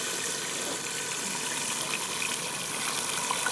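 Water flows steadily into a cooking pan holding tomatoes while aloo methi is prepared, a continuous even hiss with no voices.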